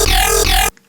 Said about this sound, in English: And then lastly, I have a dubstep growl.